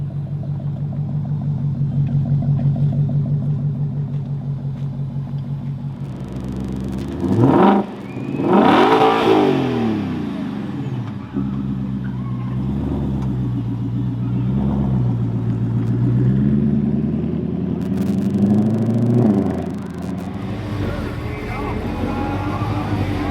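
Cars rev and rumble loudly at a Ford nationals show, with a steady engine drone broken by sharp throttle blips and rising revs, alongside talk.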